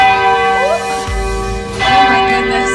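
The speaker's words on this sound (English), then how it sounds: "Oh, wow, there's the bell. It's huge." A huge church bell in Cologne rings out loud and close, its strikes leaving a rich, sustained ringing hum that swells again partway through.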